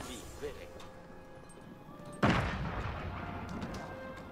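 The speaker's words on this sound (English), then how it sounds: "Oh, that was the cannon." Cannon firing in Age of Empires IV, a single heavy boom partway through that rings out and decays into rumbling, with faint battle sounds around it and a voice speaking.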